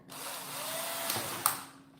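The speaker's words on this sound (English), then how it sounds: "The drill got stuck." Power drill boring a hole in a bonsai pot, a faint steady whirring close by, rising briefly with a couple of sharp clicks near the end before stopping.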